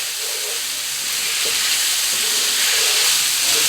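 80-20 ground beef sizzles and hisses as it browns in a pan, with faint scraping of a utensil stirring it, steady and close throughout.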